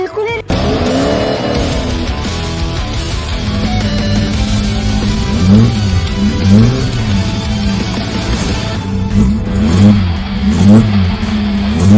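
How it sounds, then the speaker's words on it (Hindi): A powerful car engine revs hard, rising and falling in repeated throttle bursts, loud and close, with tire noise beneath. "इंजन की आवाज और ताकत बेहतरीन लग रही है।"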